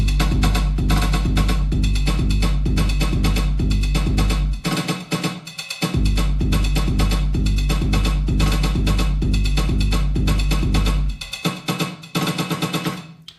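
Dembo-style drum loops with bubbling snares play together in a loud, dense groove, steady pulsing beats with two brief drop-outs before the pattern resumes, no voices.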